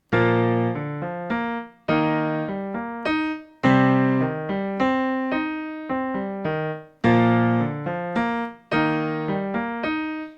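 Piano chords played without the sustain pedal, struck in clear separate blocks, each decaying and cut off abruptly before the next, dry and detached, with no speech.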